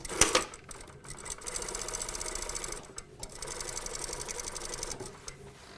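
A sewing machine stitches a trouser slanted side pocket in continuous bursts, pausing briefly between runs, close and steady with a rapid mechanical chatter.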